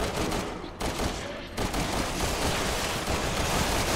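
Bursts of gunfire in the video game Resident Evil 6, rapid shots clustered into loud volleys with brief pauses between them, dense and close with no voices over it.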